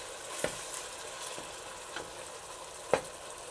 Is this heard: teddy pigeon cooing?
no